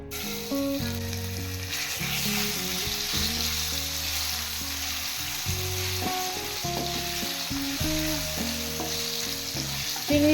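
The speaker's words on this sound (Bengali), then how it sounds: "এবার এই আলু ভাজা তেলের মধ্যে চিংড়ি মাছগুলো ভেজে নেব।" Shrimp frying in hot oil left over from frying potatoes, a steady close sizzle with crackling throughout and no speech.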